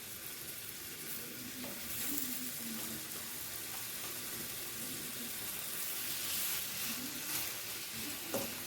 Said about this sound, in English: in the same pan, we're going to add a couple strips of bacon so we can get that nice and crispy